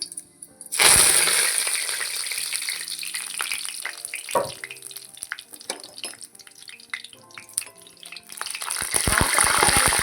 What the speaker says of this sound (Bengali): তো কারি পাতাটা ভাজা হয়ে গেছে